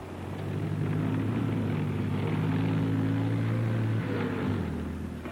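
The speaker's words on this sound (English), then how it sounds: "Israeli planes struck the Egyptian Air Force on the ground." Military aircraft fly overhead during the June 1967 Israeli air strikes. Their engines drone steadily and loudly, with a low rumble and a propeller-like hum that shifts in pitch near the end. Nobody speaks.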